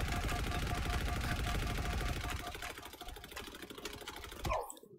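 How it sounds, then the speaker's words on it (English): Rapid automatic gunfire rattles in Halo Infinite, a fast continuous burst of shots that loosens and thins out before a final sharp bang near the end. "Who the fuck is shooting?"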